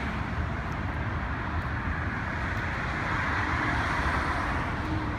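A continuous broad roar of road traffic at a bridge on Route 9 in Middletown, Delaware, a car rushing past nearby with steady engine and tire noise, no voices.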